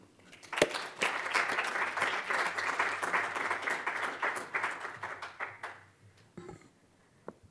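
An audience applauding to welcome a lecturer at an open lecture: steady, full clapping from many hands in a hall that swells, holds for several seconds, then thins out into a few last claps.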